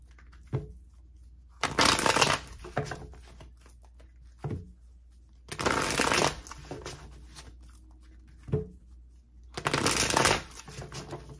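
Tarot cards being shuffled by hand in three separate bursts of crisp riffling and flutter, each a couple of seconds long, with single soft taps between them and quiet in between.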